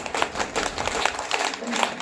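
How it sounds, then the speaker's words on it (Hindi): A few people clap their hands in a demonstration during a Jain religious discourse, with cupped palms meeting fully, giving a steady run of sharp claps that stays close and fairly loud without talk. "इस प्रकार से ताली बजाई जाती है।"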